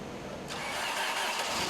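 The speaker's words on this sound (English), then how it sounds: "it took 1 minute and 10 seconds of cranking or chopping up that heavy oil before the engine could get up enough RPM to start" A car engine cranking in the cold on heavy 10W30 oil, the starter grinding briefly before the engine catches and a steady broadband roar fills in, loud and close with no talk.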